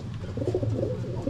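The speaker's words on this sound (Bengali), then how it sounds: "আর এখানে উপরে অনেক পায়রা আছে" Pigeons cooing in a park at Choa, a low, soft, continuous cooing murmur from several birds close by, with no talk.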